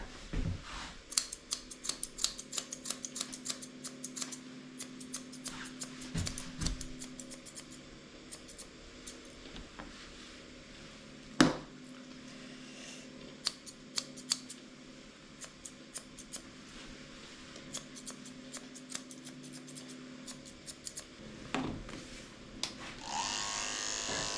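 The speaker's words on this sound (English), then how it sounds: "I'm using my thinning shears to blend in his ears and his beard." Thinning shears trimming a Scottish terrier's ears and beard: rapid, quiet, close-up snipping clicks repeating in irregular bursts throughout, with a few louder snips and no talking.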